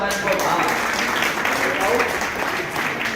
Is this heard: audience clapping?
yes